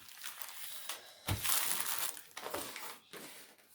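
Plastic crinkling and rustling in bursts, with a couple of sharper crackles as the packets are handled up close.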